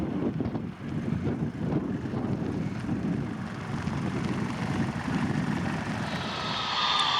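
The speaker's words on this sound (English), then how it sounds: "With a burst of orange, the EasyJet Airbus A320 takes flight" An EasyJet Airbus A320 takes off at Lisbon Airport, heard as a steady, distant jet roar with wind rumble, holding constant and rising slightly with a higher whine toward the end.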